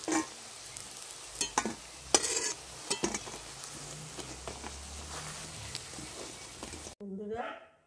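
Spinach pakoras fry in hot oil with a steady soft sizzle, broken by stirring clinks and scrapes of a utensil against the pan, while a voice talks briefly at the end.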